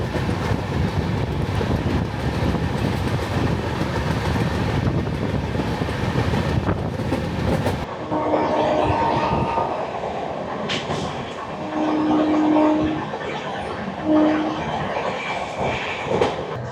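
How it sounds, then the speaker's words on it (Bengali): A passing train roars close alongside the moving Gatimaan Express, a dense rushing rumble with wind buffeting that cuts off abruptly, leaving lighter rolling rail noise and faint clicks. "পাশ দিয়ে ট্রেন চলে গেল।"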